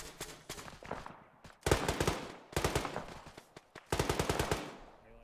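Automatic gunfire in the video game Arma 3, several distinct bursts of rapid shots separated by short pauses, fairly close and sharp, with no talk over them.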